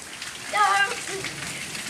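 Hail falls outdoors in a steady, dense patter of small hits on surfaces, with a brief voice rising over it midway.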